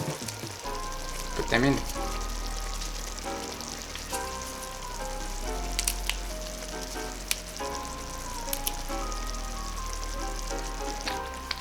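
Torn basil leaves and stalks go into a tomato sauce pan with a little olive oil and sizzle steadily and close up, a continuous crackling fry with occasional pops, under a few brief spoken words.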